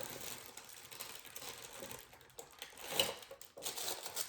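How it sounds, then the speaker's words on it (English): A heat sealer presses down on a plastic bag wrapping a cold process soap, giving a quiet mechanical buzz with a brief clack near the middle, close up. No one speaks. "I have my sealer. I'm gonna press down."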